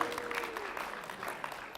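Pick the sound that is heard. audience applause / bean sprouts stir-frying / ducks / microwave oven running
audience applause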